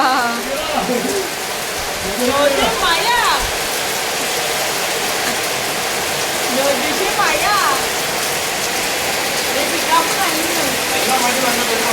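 Steady rain pours down on a rainy evening, a dense continuous hiss that stays loud throughout while voices talk over it.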